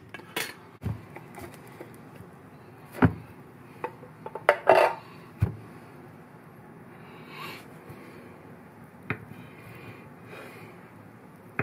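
Canned Spam being roughly cut into cubes on a board, a few sparse knife knocks and clinks of utensils with quiet gaps between them, close and fairly soft.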